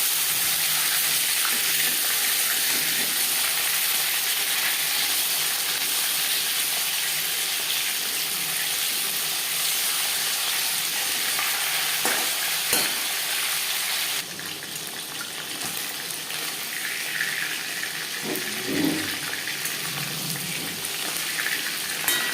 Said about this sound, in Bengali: পাঙাশ মাছ তৈলাক্ত মাছ, সাবধানে ভাজতে হবে।